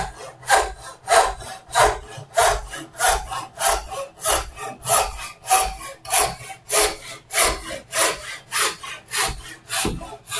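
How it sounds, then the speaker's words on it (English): A hand saw cuts through wood in a steady rhythm of about two strokes per second, each push and pull a loud, close rasping burst, continuing for the whole stretch without speech. "It may make the saw squeak a bit, just depending on the moisture in the wood."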